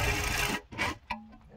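A power drill drives 5/16 by 1.5 inch screws to mount a surge protector box. There is a loud whirring burst, then short stuttering pulses as the screw seats, with a brief high whine near the end.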